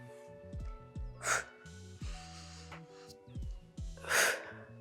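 Forceful exhalations during a morning posture and core breathing exercise come as a few sharp, breathy puffs over background music with a steady beat.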